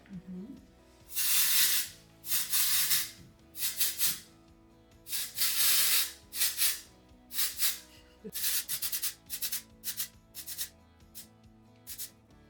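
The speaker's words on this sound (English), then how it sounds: "I'm going to use a little dry texturizing spray as well." Repeated short bursts of dry texturizing hairspray hiss onto hair roots, several quick pumps in a row, close to the microphone with brief pauses between them.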